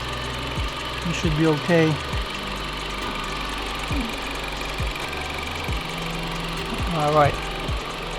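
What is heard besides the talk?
2016 Dodge Journey SX engine idling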